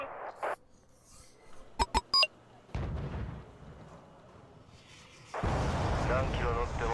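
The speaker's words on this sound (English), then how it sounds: "I accidentally double tapped my hotkey on the howitzers" Howitzer artillery in a strategy video game fires in a quick burst of sharp booms, followed by a lower rumbling blast and then a sustained loud roar of battle noise.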